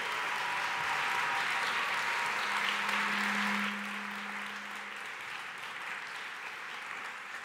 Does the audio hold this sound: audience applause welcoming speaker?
yes